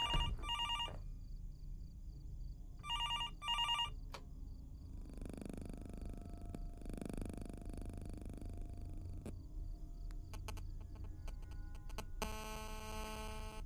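A telephone rings inside the horror video game Fears to Fathom, Norwood Hitchhike episode: two short bursts of electronic ringing, then a dim, murky room ambience and a harsher buzzing tone at the end.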